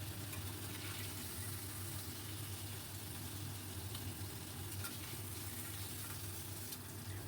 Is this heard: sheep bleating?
no